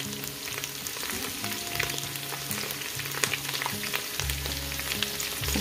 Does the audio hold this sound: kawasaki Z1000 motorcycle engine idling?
no